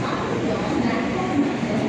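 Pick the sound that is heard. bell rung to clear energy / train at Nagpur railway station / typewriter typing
train at Nagpur railway station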